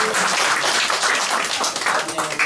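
Applause at a Christmas church service award ceremony, as a student receives a certificate; broad, continuous clapping holds steady and fairly loud throughout, with a hint of voices underneath.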